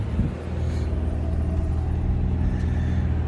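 A Nissan Pathfinder on a test drive after its brake pads, rotors and calipers were replaced, giving a steady, close low road rumble and engine drone throughout with no squeal.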